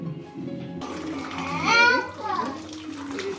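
Hot water pours off boiled potatoes as they are drained, making a rushing, gurgling splash that swells in the middle, with a voice speaking over it.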